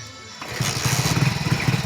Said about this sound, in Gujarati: બાઈક ઉપડતું નહીં